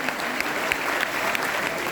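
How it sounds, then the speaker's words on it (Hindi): A live audience claps loudly and steadily, dense applause filling the whole stretch with no break and no voices standing out. "मैं चाहूंगा इनके लिए सबसे जोरदार ताली हो जाए मेरे दोस्त"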